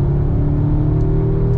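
An Audi S3 8Y with its resonator deleted drones through a fifth-gear downshift around 4,000 RPM, a steady close engine rumble heard from inside the cabin.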